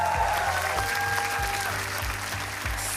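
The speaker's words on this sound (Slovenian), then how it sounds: "Aplavz za Petra!" Sustained audience applause fills a television talent-show studio during a semifinal, steady dense clapping throughout with faint music tones layered underneath.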